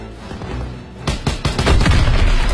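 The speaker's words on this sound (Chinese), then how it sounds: "爆炸，搞定，碉堡拿下。" An explosive charge detonates on a bunker in Call of Duty WWII, a sudden heavy blast followed by rolling booms and crackling debris, loud and close after a quieter buildup.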